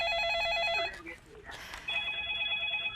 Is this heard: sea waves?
no